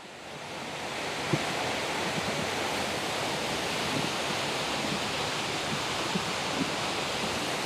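Cedar Falls, a waterfall about 50 feet high in Ohio's Hocking Hills, gives a loud, constant, full-bodied rushing roar close by, with no voices over it.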